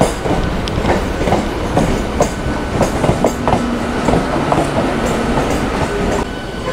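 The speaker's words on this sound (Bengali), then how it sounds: "এ পাশে যে ট্রেনটা যাচ্ছে এটা হচ্ছে অমৃতসর মেল, অমৃতসর থেকে আসছে" An Amritsar Mail train running past at a rail line, its steady rolling rumble broken by repeated clickety-clack wheel beats and a faint squeal, loud and close throughout with no voices.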